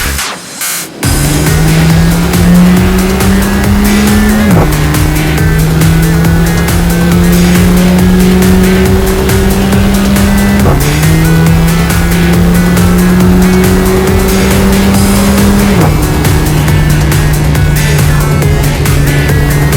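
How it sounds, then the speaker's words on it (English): Mercedes-Benz A45 AMG engine revving hard and close, its pitch climbing through the gears and dropping sharply three times, with a booming pop at each ignition cut on the gear change. No voices. "That sound you hear is the engine actually cutting ignition to just a little while,"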